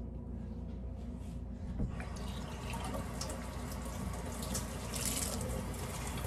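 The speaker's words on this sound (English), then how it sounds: "Oh, I need to wash this cup." A kitchen tap runs into a sink while a coffee cup is washed under it, a steady close splashing hiss that grows slightly busier partway through, with no talk.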